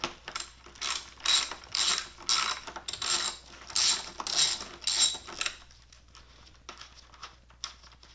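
A ratchet removes 10 mm bolts from the radiator fans of a 2012 Nissan Sentra, giving several quick bursts of close, crisp clicking in a steady rhythm, then a few faint clinks.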